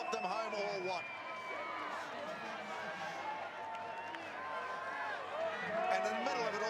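A rugby crowd at the 2012 Meads Cup final between NPEC and Wanganui roars steadily, with cheering and scattered clapping over the whole stretch and a commentator talking over it.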